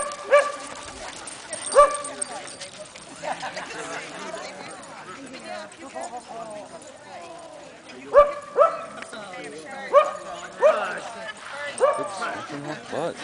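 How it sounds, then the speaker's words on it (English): A sheepdog gives several sharp barks and yips spread across the stretch, with whimpering between them and a few footfalls nearby. People talk in the background throughout. "a sheepdog"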